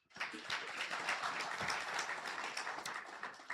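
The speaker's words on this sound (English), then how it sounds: "I hope I get a clap for that." Audience applause at a professional accountants' winter school session, a moderately loud spread of hand clapping that rises quickly and carries on evenly before tapering slightly.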